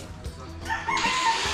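A rooster crows briefly in the near distance, a rising strained call over a low background hum.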